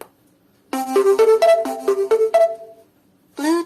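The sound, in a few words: cheap Bluetooth speaker power-on sound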